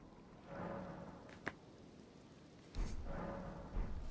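Rain and thunder in the video game Elden Ring, a soft steady wash of rainfall that swells twice, with one sharp crack partway through and a low rumble rolling in near the end.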